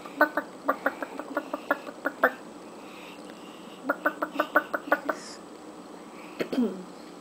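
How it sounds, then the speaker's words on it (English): Hungry backyard chickens eating sweet potatoes give two quick runs of short, rhythmic clucks, close by, followed by a brief rising squawk near the end. "The chicken's hungry."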